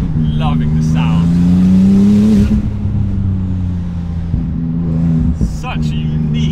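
A modified 900-horsepower Porsche 911 Turbo accelerates hard, its loud engine note climbing and then easing off after a couple of seconds before it settles into a steady drone, with people talking in the car.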